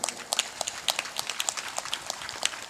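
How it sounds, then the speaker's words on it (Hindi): Audience clapping at a live satsang gathering, a steady patter of many hands sustained and fairly even throughout, moderately loud with no voices over it. "ताली बजा दो।"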